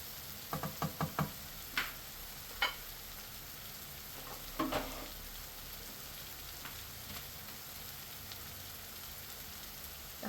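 Broccoli with oyster sauce gets stirred in a pan: a quiet background sizzle with a quick run of utensil knocks and scrapes, then a few scattered clinks, no voices.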